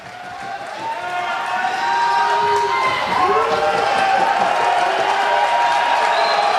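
A crowd at a strongman tire deadlift event cheers and roars, swelling quickly and holding at a loud, steady level while a commentator talks over it.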